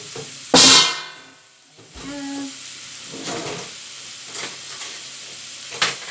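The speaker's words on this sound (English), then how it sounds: "So we'll have that frying" Sizzling from a frying pan, with a loud burst of hiss near the start and occasional clinks and scrapes of stirring.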